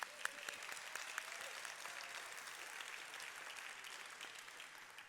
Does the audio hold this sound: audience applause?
yes